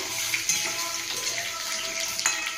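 Potatoes frying in a hot pan with bay leaf, a steady close sizzle and crackle with a few sharp pops and light stirring scrapes, no voices.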